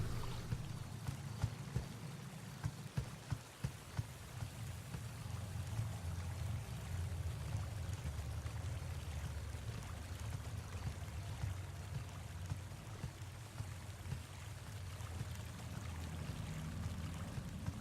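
A creek in the horror video game KUON gives a steady, soft stream of flowing water that runs continuously throughout. A few faint knocks come near the start, and no one speaks.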